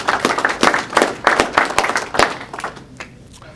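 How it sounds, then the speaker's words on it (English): Audience at a real estate investor meeting claps in rhythmic bursts, close and fairly loud, thinning out and fading over the last second. "give her a round of applause"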